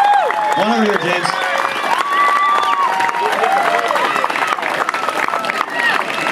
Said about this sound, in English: So a big round of applause for all of our athletes